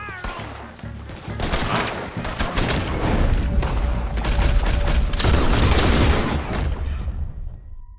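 Red Dead Redemption 2 gunfire: a dense, loud fusillade of overlapping shots and booms rolling on for several seconds before cutting out into quiet.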